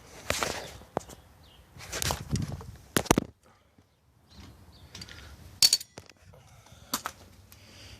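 Vice grips work loose a screw on the back of a Singer sewing machine treadle, giving faint metallic clicks and ratcheting scrapes in short bursts between quiet pauses, with a sharp clink near the end.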